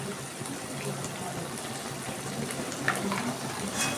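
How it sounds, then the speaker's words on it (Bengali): Mustard oil is poured into a cooking pan for a kohlrabi and rohu fish curry, making a continuous soft liquid trickle that turns into a faint hiss, heard alone at close range. "এবার আমি একটু সর্ষের তেল দিয়ে দিচ্ছি"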